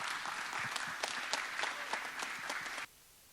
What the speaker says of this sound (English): Give him some clap.